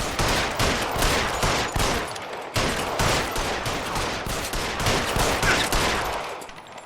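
Heavy gunfire in the video game L.A. Noire, a dense continuous barrage of rapid overlapping shots that stays loud and steady throughout, with no talk.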